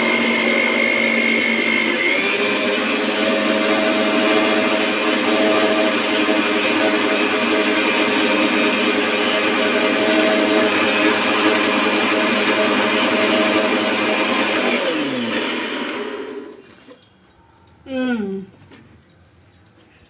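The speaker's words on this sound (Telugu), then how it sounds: "ఇంకా మిక్సీకి పడాలి." Loud, close mixer grinder whirring steadily while blending stuffed brinjal gravy, the motor pitch shifting slightly before it winds down; brief clatter and a voice follow at the end.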